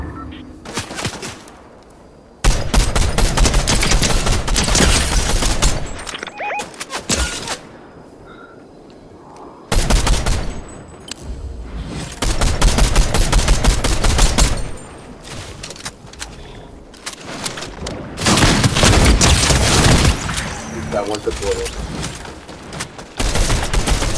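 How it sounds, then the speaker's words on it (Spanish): Rapid bursts of automatic gunfire from the video game Fortnite, loud and sustained in long volleys separated by short quieter gaps, with occasional voices in between. "Por ahí escucho disparos."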